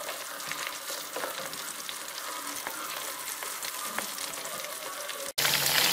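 Gola kabab frying in oil in a pan: dense, continuous close sizzling and crackling at a steady level, briefly cut off near the end before resuming loudly.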